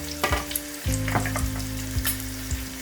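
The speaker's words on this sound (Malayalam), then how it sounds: "ഇതിലേക്ക് ഞാൻ ഉള്ളി ഇട്ട് കൊടുക്കുകയാണ്. അതിൻ്റെ കൂടെ തന്നെ ഇഞ്ചി വെളുത്തുള്ളി പേസ്റ്റ്" Onion and ginger garlic paste fry loudly in a pan, a dense crackling sizzle broken by several sharp stirring scrapes and spatula knocks over a few seconds, with no voices.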